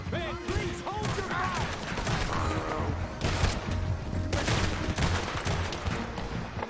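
Gunfire in the Red Dead Redemption 2 video game, a dense run of overlapping shots and cracks that keeps up throughout, loud and close, with other game sounds mixed in.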